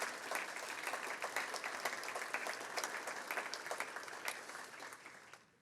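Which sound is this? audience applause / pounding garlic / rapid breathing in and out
audience applause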